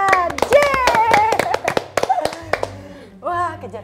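Clapping on a children's quiz show after a correct answer, sharp close hand claps in a quick irregular rhythm sounding under cheerful voices and someone speaking, with a few spaced claps before the talk resumes.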